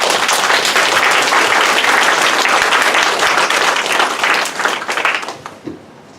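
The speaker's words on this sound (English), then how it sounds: "give him a round of applause, please" A loud, close round of clapping from guests at a charity fundraiser lunch, full and continuous before thinning out and fading away near the end.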